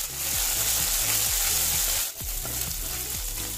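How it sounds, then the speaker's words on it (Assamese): Green and ripe chillies with ginger-garlic paste fry in mustard oil, a loud continuous sizzle with regular stirring scrapes, a brief dip partway through, then the hiss carries on. "1-2 মিনিট সময় এইখিনি লৰাই লৰাই ভাজি ল'ম।"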